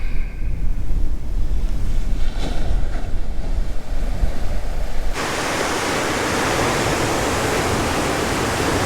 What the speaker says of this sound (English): I'm just saying goodbye from this beautiful beach, looking out over Yokohama Bay.